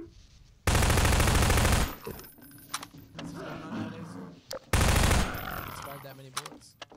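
Half-Life 2 gunfire: two loud, sustained bursts of rapid automatic shots, each lasting about a second, separated by quieter in-game clatter and movement noise, with brief chatter in between.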